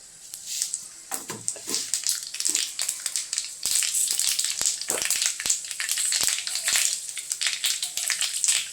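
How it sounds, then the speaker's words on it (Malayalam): Mustard seeds spluttering in hot oil for sambar, heard as a dense run of sharp crackles and pops over a steady hiss. The bursts grow busier and louder after the first few seconds, close and without talk. "കടുക് പൊട്ടട്ടെ"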